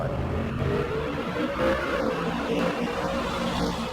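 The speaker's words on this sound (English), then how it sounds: "the sights, the smells, the sounds of these muscle cars" Muscle cars at a drag strip roar with a low, steady engine rumble that swells slightly, heard from a moderate distance without voices.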